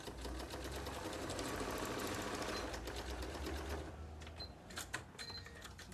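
Sewing machine running a steady seam for several seconds, a continuous dense mechanical whir that slows and stops near the end, with a few short bursts as it backstitches, close and loud.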